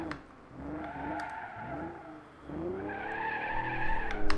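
A new car engine sound in the BeamNG.drive driving game revs up and falls back through a couple of loud, close throttle swells, with rising and falling harmonic whine and no talk.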